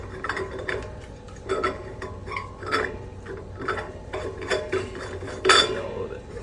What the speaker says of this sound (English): So I will recap it, but not fully tightening it.